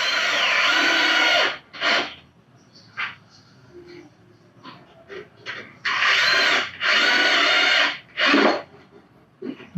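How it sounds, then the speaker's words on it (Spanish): Power drill driving screws into a melamine furniture panel, a series of short buzzing whirs, some brief and some lasting over a second, heard close up with quieter handling noise between bursts. "Y atornillamos."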